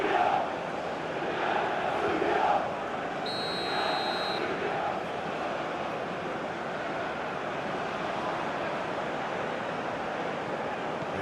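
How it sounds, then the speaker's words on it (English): A stadium crowd in a football video game roars steadily, a dense continuous wash of cheering and noise that stays loud throughout, with a brief whistle-like tone partway through. "at least the crowd are appreciative of his efforts"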